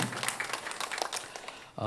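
A church congregation at a Sunday worship service claps in thanks, a dense patter of many hands filling the room for under two seconds before a voice cuts in.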